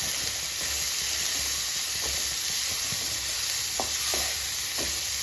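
Chopped banana flower cooking in coconut oil in a pan, a constant loud hissing sizzle up close with occasional soft scrapes of stirring.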